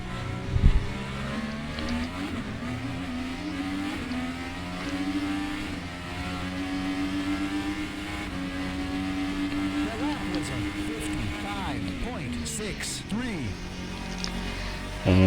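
A current-generation Indy car mod in the rFactor 2 racing sim revs hard under sustained harmonic engine drone, pitch rising and falling with gear shifts through the run, with spoken commentary laid over the top.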